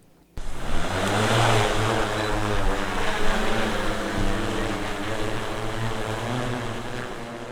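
A steady droning hum with a buzzing propeller whine from a drone flying overhead holds constant after starting abruptly, loud and close, with no voices.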